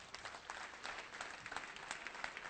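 A church congregation applauding during a worship service, a dense, continuous patter of many hands clapping, steady and somewhat muffled.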